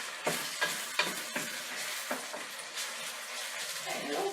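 Onions frying in a pan for golabki, a soft steady sizzle broken by several sharp clatters and scrapes of stirring, close and fairly quiet with no talk.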